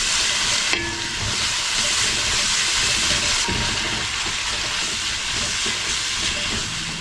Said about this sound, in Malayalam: ഇതിലേക്ക് നമ്മൾ ക്രഷ് ചെയ്ത് വെച്ചിട്ടുള്ള ഇഞ്ചി, പച്ചമുളക്, കറിവേപ്പില, വെളുത്തുള്ളിയുടെ ഒക്കെ കൂട്ടിയിട്ട് കൊടുക്കുകയാണ്. അപ്പോൾ ഇതിനെ നമുക്ക് നന്നായിട്ട് മൂപ്പിച്ചെടുക്കാം